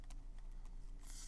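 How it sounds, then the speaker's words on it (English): A calculator being typed on: several quick, light key taps in a short burst, close but faint over a steady low hum, with no voice. "Type that in your calculator and get our answer."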